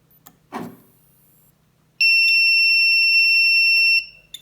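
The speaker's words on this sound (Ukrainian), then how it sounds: "Чути високочастотний піск" A homemade X-ray apparatus transformer in a kitchen emits a piercing steady high-pitched whine for about two seconds after a brief thump, loud and close, with faint background hum.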